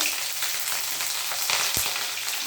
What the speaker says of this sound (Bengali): এই যে চেরা লঙ্কাগুলো দিয়ে দিচ্ছি তেলের মধ্যে